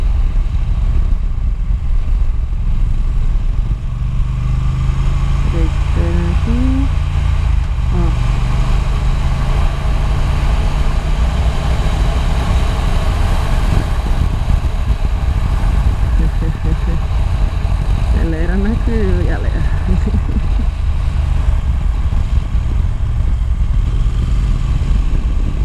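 A Triumph Speed Twin 1200 motorcycle engine idles with a steady low rumble throughout, with some faint background sounds layered over it.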